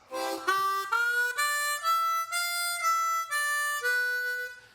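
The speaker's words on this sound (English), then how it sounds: "that 1 chord riff sounds like this" A harmonica plays a bouncing boogie-blues bass riff starting on the 2 draw, several clear note steps rising and falling in a steady rhythm, close and solo.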